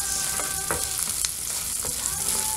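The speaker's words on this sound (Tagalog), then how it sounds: "Sunod na po ang sibuyas. Lutuin mabuti." Onions for menudo fry loudly in a pan, a dense, close hiss broken by quick spatula scrapes and pops, with no voices.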